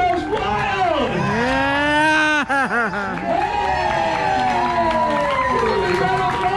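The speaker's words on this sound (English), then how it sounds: "And the crowd goes wild!" A festive crowd at Disney Springs in Florida whoops and cheers loudly, with voices sliding up and down in drawn-out, mooing-like yells that build and break, close and boisterous.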